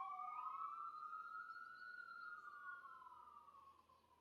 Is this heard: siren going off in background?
yes